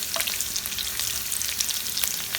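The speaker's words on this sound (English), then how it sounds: "we are going to add in about a tablespoon of garlic chopped. and a few sprigs of curry patta leaves. And let's fry this lightly." Chopped garlic and curry leaves fry lightly in oil with a steady, close crackling sizzle and scattered sharp pops throughout.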